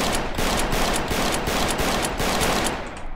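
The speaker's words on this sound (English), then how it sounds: "Okay, this guy's shooting me." Sustained rapid machine-gun fire in a Roblox Wild West game, a dense loud stream of shots lasting a few seconds before cutting off.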